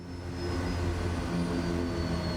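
Single-engine turboprop drone of a Kodiak 100 held at high idle on a runway in Microsoft Flight Simulator 2024, a steady, even hum with a faint high whine, rising slightly at the start and then holding constant with no talk.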